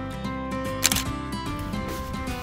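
A Nikon Z9 mirrorless camera fires its shutter once while photographing a peony field, a single crisp click standing out over soft background music.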